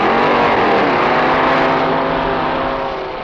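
A top gas dragster at the 1963 NHRA Winternationals roars down the drag strip, a loud, sustained engine howl that stays strong before easing slightly at the end, with no talk over it.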